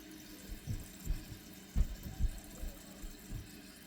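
A toilet tank refills with water after a flush, giving a quiet, irregular gurgle and sloshing with soft pulsing bursts, close by and with no voices.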